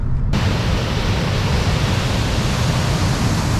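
A mountain waterfall roars as a dense, steady wash of white noise, loud and close, holding constant after a brief quieter opening.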